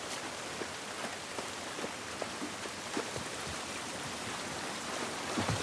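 Rain falling outdoors in the video game The Last of Us Part I, a steady soft hiss with scattered droplet patters, fairly quiet and without voices.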